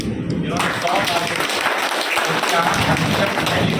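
Audience at a blood donor felicitation event giving sustained applause, dense crowd clapping filling the whole stretch at steady loudness with a voice carrying over it.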